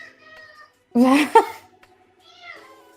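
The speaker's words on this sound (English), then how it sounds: "my cat sees a bug on the wall and he is like losing his shit" A pet cat meows loudly at a bug on the wall, one long drawn-out meow followed by a short second call, close to the microphone with quiet gaps around it.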